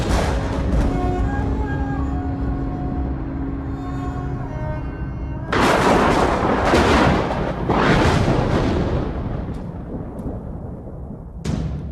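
Loud bursts of booming gunfire erupt over a sustained droning tone, harsh and rumbling, with a final crack near the end.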